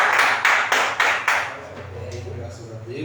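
A church congregation clapping in four or five strong unison beats, then fading into quieter scattered sounds and faint voices.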